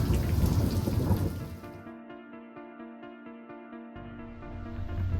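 Rain falling on a balcony overlooking a lake in Kenya's Rift Valley, a steady broadband hiss that thins out midway and then swells back, with no voices.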